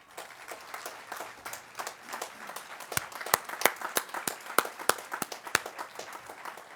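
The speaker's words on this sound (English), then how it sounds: "mighty Dolphin round of applause" A graduating class and audience at a Dennis-Yarmouth high school graduation give a loud, sustained round of applause, dense clapping with sharp individual claps standing out near the end.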